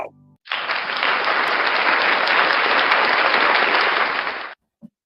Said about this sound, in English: Round of applause for NCR News Network.